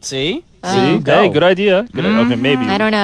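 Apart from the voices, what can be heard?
No distinct noise like a dog, phone or traffic.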